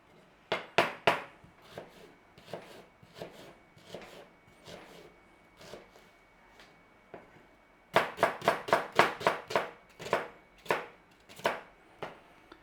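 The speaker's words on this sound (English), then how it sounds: "We want some small dices of onion." A knife dices onion on a chopping board in quick, crisp taps, with uneven bursts of chops, a pause, then a faster, denser run of cuts.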